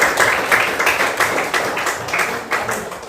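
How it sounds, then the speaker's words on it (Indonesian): A classroom of students clapping together for their classmates, a dense, steady patter of many hands that stays fairly loud and even throughout, with no talking over it. "Ya, tepuk tangan buat kalian"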